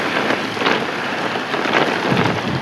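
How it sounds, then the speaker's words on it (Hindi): Heavy rain pours down in a steady, dense roar with broad hiss and surges in intensity; no thunder clap stands out clearly, and no voices are heard. "एकदम घनघोर बारिश हो रही है।"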